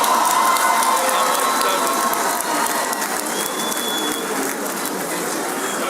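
A large crowd at a celebration of Yakubu Gowon's 90th birthday keeps clapping and cheering as former President Olusegun Obasanjo walks in, a dense continuous roar of hands with scattered shouts.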